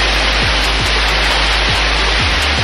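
A small waterfall near Kuala Terengganu, Malaysia, roars as a loud, constant rush of falling water, broad and hissing, steady for the whole stretch with no voices.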